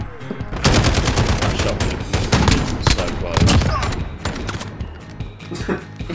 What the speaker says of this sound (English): I'll fire one warning shot and then reload.